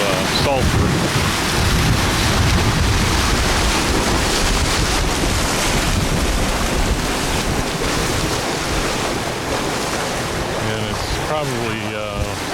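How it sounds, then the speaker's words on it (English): Strong wind in Iceland roars and buffets the microphone continuously, with a rushing, surf-like wash throughout and no clear voices. "very, very windy"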